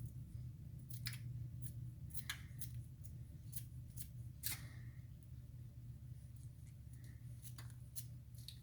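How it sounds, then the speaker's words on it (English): Scissors snipping chives over sour cream and butter on a steak, a string of crisp close snips at an uneven pace over a low steady hum, with no talk. "I'm gonna cut up some chives in there."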